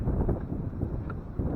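Strong wind outdoors buffets the microphone with a low, heavy, continuous rumble that swells and eases slightly, with no speech.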